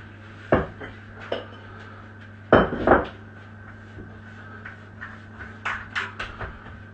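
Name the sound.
dough being put into a bowl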